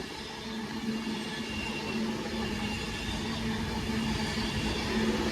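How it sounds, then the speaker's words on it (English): An Avanti West Coast train to Glasgow Central passing on a diversion along the Walsall line, a steady rumbling roar with a faint electric hum that builds gradually, mid-distance, no voices. "Here's a passing Avanti West Coast service to Glasgow Central."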